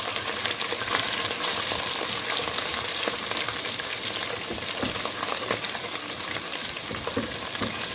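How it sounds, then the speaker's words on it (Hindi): Ginger, garlic and whole white cumin seeds frying in oil for haleem, a loud, dense, continuous crackling sizzle with faint stirring scrapes, close and with no talking. "और इसे हम 1 से 2 मिनट तक अच्छे से करेंगे फ्राई, भूनेंगे, ताकि इसका कच्चापन ख़त्म हो जाए"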